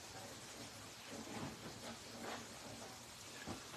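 Steady rain pours outside while thunder rumbles in low, rolling bursts, a continuous stormy wash with no voices.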